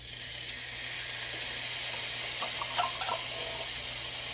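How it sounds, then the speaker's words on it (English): Drained canned mushrooms added to a sizzling pan for poor man's beef stroganoff, a steady moderate sizzle with brief wet crackles and a few clinks midway. "now I'm going to go ahead and add in the 1 can of mushrooms that I have."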